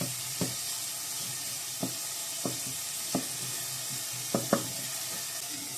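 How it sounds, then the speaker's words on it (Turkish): Steady hiss of chopped onions and garlic sizzling in hot oil, with a few scattered clicks and taps of a utensil against the pan. "Doğradığımız soğan ve sarımsakları kızan yağın içerisine alıyorum ve soğanlarımı iyice kavuruyorum"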